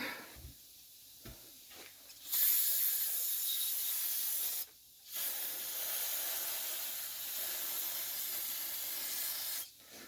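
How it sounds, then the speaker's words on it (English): Steady, loud aerosol hiss sprayed onto a Briggs and Stratton model 6B-SF engine in two long bursts, with a brief pause between them and a few faint clicks beforehand. "I'm going to spray this a little bit"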